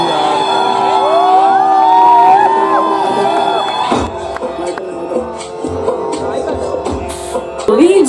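A crowd cheers and whoops at an outdoor evening music show in a park in Rewa as the singers come on stage. The cheering is loud and sustained and is joined by whistles and shouts, then thins out.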